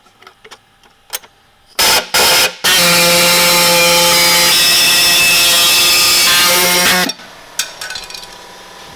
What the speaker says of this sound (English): it's a little bit hard for that saw to cut through both of those